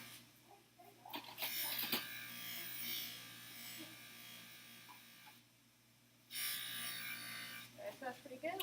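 A buffing wheel with tripoli and rouge compound polishing metal, a steady whirring buzz with rubbing scuffs that rises and falls as the workpiece is pressed against it, dropping briefly midway before resuming; someone talks over it.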